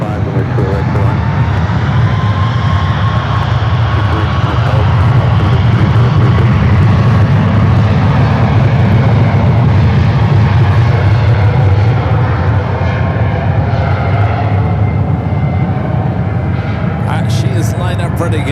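A Boeing 777-300ER airliner departs San Francisco International Airport from runway 28 right. A loud, sustained jet engine roar with a rising whine fills the whole stretch at close range, and the roar builds steadily as the aircraft powers up.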